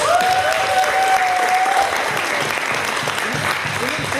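A convention panel audience at AliCon 2019 applauds, a dense steady wash of clapping that fills the whole stretch, with a voice briefly heard over it at the start.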